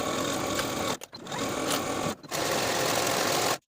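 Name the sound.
sewing machine or serger stitching dress back center seam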